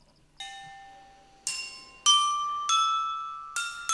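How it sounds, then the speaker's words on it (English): Lin'bi stones ring out with clear, bell-like tones as they are tapped six times in an uneven sequence, each strike bright and sustained before slowly fading, close and alone. "Because of the pleasant sound they produce when tapped, Lin'bi stones have even been used to play music"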